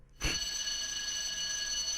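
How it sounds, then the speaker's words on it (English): A school bell rings for class in the Gaokao video game, a loud, sustained electric ringing that starts abruptly and holds steady without a break. "Oh, there goes the bell."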